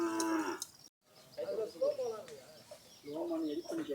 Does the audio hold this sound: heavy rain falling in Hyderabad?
no